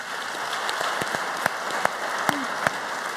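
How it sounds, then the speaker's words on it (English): An audience at a talk on the Voyager missions applauds in a steady patter of clapping, with a few sharp individual claps standing out from the crowd. "I forgot to tell you we're not rationing applause tonight, so feel free, burst out."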